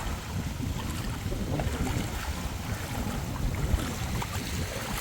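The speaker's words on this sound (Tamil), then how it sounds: "காற்று அடிச்சு கொண்டே இருக்கு." Steady outdoor wind roars and buffets the microphone without a break, with a low rumbling rush dominating throughout and no voices, near a temple where trees are toppled and floodwater has risen.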